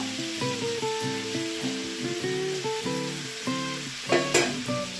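Prawns dropped into a pan of frying spice masala with melted tomatoes and green chillies set off a steady sizzle with stirring scrapes and a sharper hiss near the end, under soft background music.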